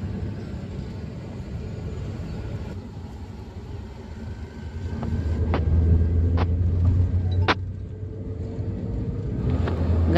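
Cab driving along a road in Malaysia, a steady low engine and road rumble from inside the car, swelling a little midway, with a few brief faint clicks and no talking.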